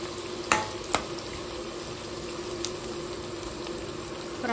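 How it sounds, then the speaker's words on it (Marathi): Onions fry in a pan for homemade chicken biryani, giving a soft continuous sizzle with a couple of sharp utensil clicks early on, no one speaking. "चला मस्त कांदा फ्राय करून घेते।"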